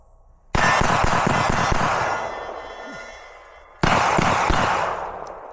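Two sharp pistol shots ring out on steel targets, each a sudden loud crack with a long fading ring. The first comes early and the second a few seconds later.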